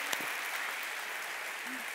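Church congregation applauding during a Portuguese-language evangelical sermon, a steady wash of clapping at moderate distance with no speech over it.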